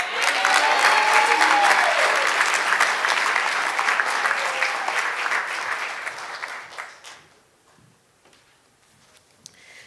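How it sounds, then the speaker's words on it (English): A graduation audience applauds a women's basketball team captain, loud, sustained crowd clapping and some cheering that tapers off after about seven seconds, leaving a quiet hall with a few scattered sounds. "let's give a big round of applause to the captain and leaders of the women's basketball team"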